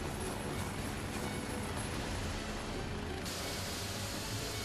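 Steady, dense engine and rotor roar inside a flying medical emergency helicopter carrying a patient, a constant broadband drone with no speech.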